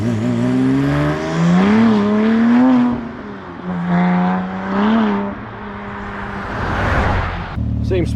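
A rebuilt, previously crashed Porsche 997 Turbo race car, made road legal, accelerates hard through several gears, its engine rising in pitch and dropping at each shift, loud and close from inside, with a brief voice near the end.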